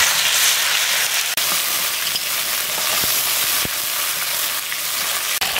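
Whole cardamom, chopped onion and garlic paste frying in hot oil produce a loud, continuous sizzle, close by, punctuated by a few sharp clicks of a spoon against the pan.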